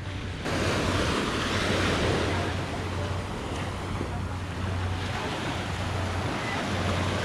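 Ocean waves wash onto a beach in Cancun in a continuous, rushing roar, with wind buffeting the microphone throughout.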